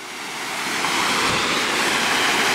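Loud waterfall at an outdoor film location, a steady, dense roar of rushing, crashing water that fills the whole stretch and holds at a constant high level.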